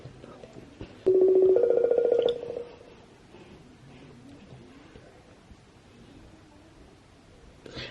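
A phone call rings out as a steady electronic tone from about one to two and a half seconds, louder than the soft room noise before and after, with no speech over it.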